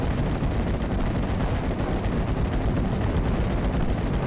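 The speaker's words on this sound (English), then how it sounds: "I'm going to start to mortar this AT gun" Mortar fire raining on an anti-tank gun in the WWII strategy game Steel Division: Normandy 44, on the Mont Ormel map: a dense, loud, unbroken rumble of blasts and gunfire that blurs into one steady barrage, with no talking.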